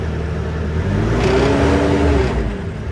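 The engine of a Bobcat T590 skid steer loader rises and holds on the throttle in a steady, loud, close mechanical drone that climbs in pitch and then settles, with no talking.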